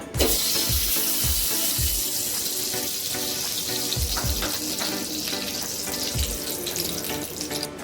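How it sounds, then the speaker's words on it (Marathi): Ghee hitting a hot kadai for mango sheera, a loud continuous hiss and sizzle broken by several dull metallic knocks from a utensil against the pan. "कढई चांगली गरम झालेली आहे त्याच्यामध्ये आता आपण पहिल्यांदा तूप टाकून घेऊया"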